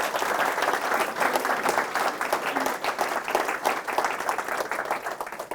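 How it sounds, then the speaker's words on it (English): Audience applause at a community data report release event, steady hearty clapping from a full room that holds at an even level throughout, with no talking over it. "I would very much appreciate it if you would give them a round of applause"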